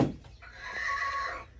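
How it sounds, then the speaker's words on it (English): An Ameraucana chicken gives a single drawn-out, nasal clucking call, close and moderately loud, with no talk over it. "The Ameraucana, in my opinion, is the grouchiest, unfriendliest chicken I've ever seen."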